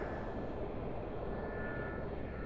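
A helicopter lifts off in the DCS flight game, its engine and rotor blending into a dense, steady roar that stays loud and even throughout.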